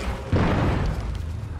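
A deep, rumbling explosion in the video game The Order: 1886 booms with a sudden burst and then rolls off into a noisy decay.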